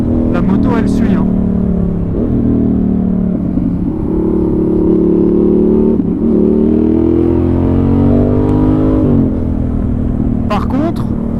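Yamaha XSR700 motorcycle on a road ride, its engine droning steadily and shifting in pitch as it picks up rhythm through bends, close and loud, with someone talking over it throughout.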